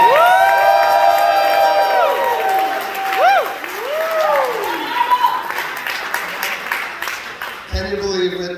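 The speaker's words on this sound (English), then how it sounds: "can I get another round of applause for the beautiful Mr. and Mrs." Wedding guests clap, cheer and whoop for the newlyweds, Mr. and Mrs. Alex Stoll, a loud crowd burst with sustained tones and shouts layered over the clapping near the start, then settling into scattered applause.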